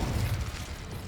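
Incendio fire spell cast in Hogwarts Legacy, a brief low rumbling whoosh with a soft burst at the start, fading over about a second.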